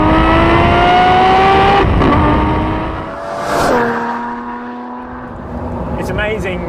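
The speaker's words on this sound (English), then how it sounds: "the monstrous engine, the last of the magnificent line of Bizzarini V12s" An analogue supercar's Bizzarini V12 revs hard, loud and close. Its tone climbs in pitch through the gears with brief drops at each shift, then falls and rises again, and a voice speaks over it.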